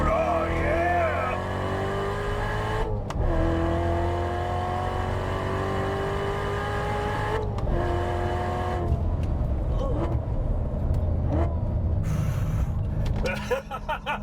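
A 2015 Corvette C7 Z06 with the Z07 package and a manual gearbox roars up through the gears, the engine rising in pitch in several pulls broken by brief shift gaps, loud and close, with excited voices near the end.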